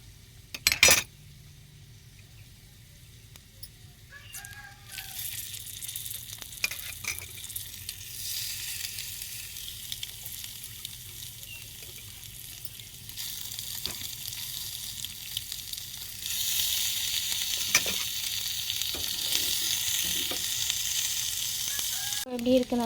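Spices and egg for coconut rice are stirred in a hot frying pan, a steady sizzle rising and swelling with occasional spoon scrapes and clinks against the pan, close and continuous without speech.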